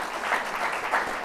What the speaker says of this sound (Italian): invito anche a farsi sentire con un applauso